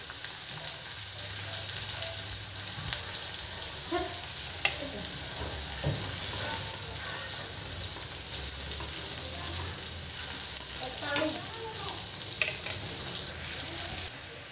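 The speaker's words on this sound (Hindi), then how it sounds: "अब ये मैं प्याज डाल दी" Onions frying after garlic in a pan sizzle continuously at close range, with occasional sharp crackles, spatula scrapes and clinks over a low steady hum.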